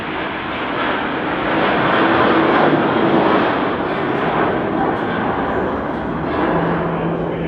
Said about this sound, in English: There's an airport like right over there where all the people can land their private jets and then come to thermal. So it's probably what you're hearing